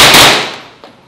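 A loud gunshot from a weapon in the video game Modern Warfare rings out and decays, followed by a second, fainter shot near the end.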